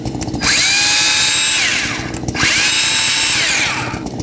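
A Bauer cordless battery chainsaw revs up twice from a trigger squeeze, each run a loud steady whine with a rising start and falling tail, close by and alone.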